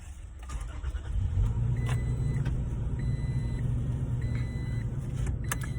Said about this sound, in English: I had to turn on my truck to close the window